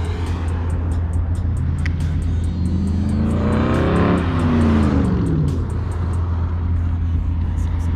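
Cars on a South Limburg driving tour pull away one after another, engines revving and rising in pitch as they pass close and fade, a continuous loud roar of traffic.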